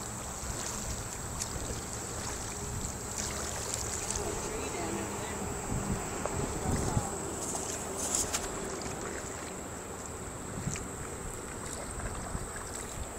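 One woman paddles a canoe on the Northwest River. Steady wind rush and soft water sounds persist throughout, with faint splashes and occasional knocks.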